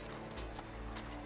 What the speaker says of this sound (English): Horse carriage.